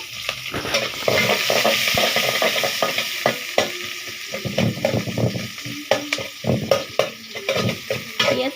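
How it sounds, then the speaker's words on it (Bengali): Onions fry for noodles in a pan on a clay stove, a loud close sizzle broken by frequent scraping and clanking stirring strokes, growing more irregular toward the end. "এই তো পেঁয়াজ দিয়ে দিচ্ছি"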